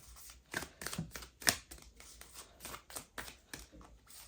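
Tarot cards being shuffled by hand at close range, a run of crisp riffling flutters and soft slaps that come in quick uneven bursts with brief pauses between them, with no talking.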